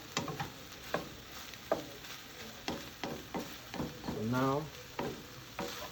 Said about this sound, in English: So now after we let the meat simmer for a little bit, you want to mix it up.